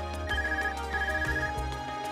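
A large phone rings in Trails of Cold Steel, a bright electronic trill pulsing in quick repeated bursts, loud and close, with no voices over it.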